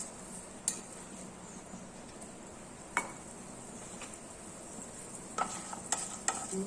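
Chana dal, mustard seeds and urad dal frying in oil, heard as a soft, steady sizzle with occasional sharp pops and light clinks of a utensil against the pan, and no voices.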